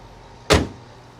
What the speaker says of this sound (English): And shut your bonnet.